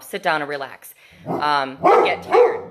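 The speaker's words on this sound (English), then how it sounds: "Sorry about the dog." A dog barks and yips indoors close by, its bursts mixed in with a person talking over it.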